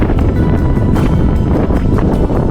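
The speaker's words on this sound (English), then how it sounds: "Very windy up here." Loud, steady wind roars and buffets the microphone in continuous gusts on an Irish mountain top, with no voices over it.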